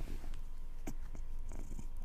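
A cat purrs close by in a low, rumbling, continuous purr, faint and steady with a few small snuffling sounds.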